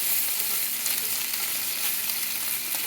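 Salt and pepper shrimp fry in a pan with a loud, steady hiss and crackle of hot oil, continuous and close throughout.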